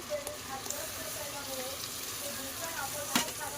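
Tomato puree goes into a hot pan with ginger-garlic paste for pav bhaji masala, giving a soft, continuous sizzle with faint stirring scrapes and a brief clatter near the end.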